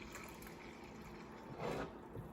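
Kombucha trickles from a pour into a small container, a faint, steady liquid wash that swells briefly into a fuller gush near the end.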